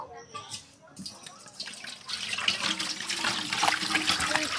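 Water pours into a cooking pot set on a lit gas stove at a brick kiln, ready for boiling lentils; a steady splashing rush builds from about two seconds in and continues to the end, with faint voices underneath.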